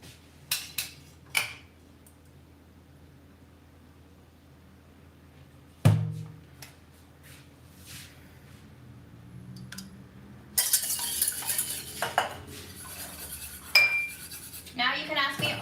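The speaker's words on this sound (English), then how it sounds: "we're gonna beat the egg whites by hand" Egg whites beaten by hand with a whisk in a bowl: scattered clinks at first, then a dense, rapid metallic scraping and clatter that runs steadily through the final seconds.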